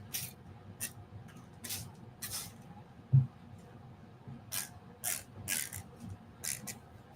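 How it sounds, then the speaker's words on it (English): A hand spray bottle misting water for a painting sketch of a eucalyptus tree, a series of short soft hissing bursts, quiet and close, some in quick pairs. "I have a spray bottle. Let's just do it the quick way."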